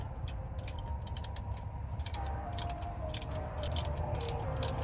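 Ratchet wrench clicking steadily while a bolt on a Chevy Cruze AC compressor is snugged up, bursts of quick pawl clicks over a low hum, close and fairly quiet, no talk.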